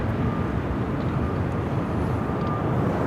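A jet airliner rumbles at a distance with a broad, steady roar as it takes off from runway 7 Left at Phoenix Sky Harbor airport, and no voices are heard.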